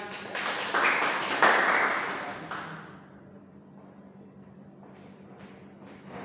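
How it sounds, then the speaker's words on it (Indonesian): A classroom group applauds a student named Lina during a math lesson: a burst of steady clapping that swells for about two seconds, then thins and fades to a faint patter. "Tepuk tangan untuk Lina."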